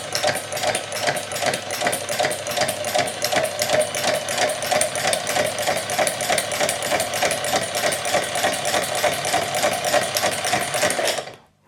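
A Hague linking machine runs steadily for about eleven seconds, stitching knitted fabric and chaining on past the last loop, with a fast, even mechanical clatter at close range before it stops abruptly.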